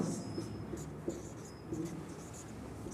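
Pen scratching across paper while a maths solution is written out by hand, soft, close strokes in short bursts against quiet room tone.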